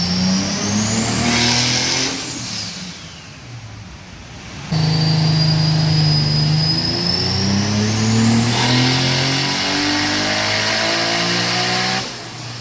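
A Toyota 2JZ VVT-i engine revs hard on a dyno pull, its loud, close mechanical note climbing and falling through several sustained sweeps with a brief lull partway through and no talking.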